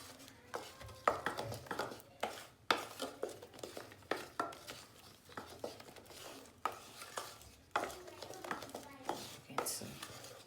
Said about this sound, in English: we're going to stir this together